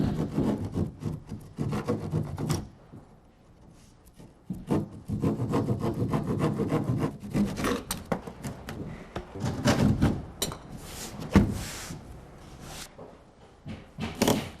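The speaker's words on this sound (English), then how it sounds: "It just needs a quick trim before I push this corner home to a snug fit." A drywall panel edge is trimmed with a blade or rasp in a series of scraping, rubbing strokes in uneven bursts, close and moderately loud, with short pauses between passes.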